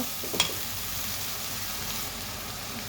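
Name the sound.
onion with ginger garlic paste frying and being stirred in a pan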